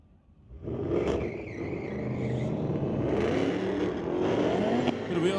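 A drag car launches off the line at Mission Raceway Park's street legal night with wheel spin, a loud engine roar rising and holding steady with brief revving bursts, close and alone without talk.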